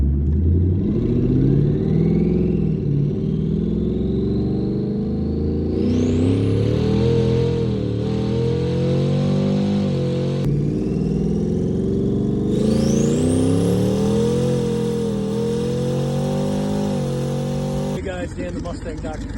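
A twin-turbo 2019 Ford Mustang Gen 3 Coyote V8 with a 10R80 transmission revving during tuning, a loud close engine note rising and falling through several long pulls, with turbo whine climbing over the roar.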